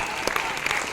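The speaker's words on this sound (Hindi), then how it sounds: "ताली बजाओ" A brief burst of dense audience clapping fills the moment at a stage comedy programme at NTPC Korba, loud and continuous across the whole second.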